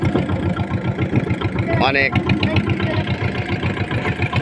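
Boat engine chugging steadily with a rhythmic mid-pitched throb during a family boat outing in the rain, with a voice speaking briefly over it.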